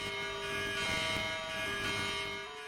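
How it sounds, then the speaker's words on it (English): A steady electronic phone alert tone beeps on and off continuously, fairly loud and shrill, with no voices. "Ronit's phone started beeping."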